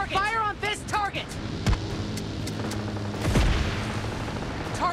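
Gunfire and heavy booms in PUBG Mobile, with a couple of deep blasts and scattered shots under an engine-like rumble, while a voice talks over the start.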